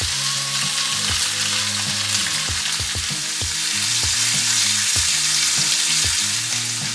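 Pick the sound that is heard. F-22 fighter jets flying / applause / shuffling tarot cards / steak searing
steak searing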